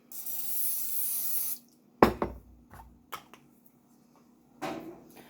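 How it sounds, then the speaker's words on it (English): A steady hiss of cooking spray into a mug for about a second and a half, then a few sharp clinks and taps of the mug being handled nearby. "I like to give mine a good spray with cooking spray"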